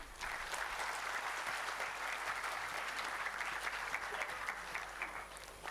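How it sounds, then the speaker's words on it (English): An audience claps steadily for prize winners at a school annual day ceremony, a dense and sustained round of applause lasting about six seconds with no speech over it. "A big round of applause for all of them."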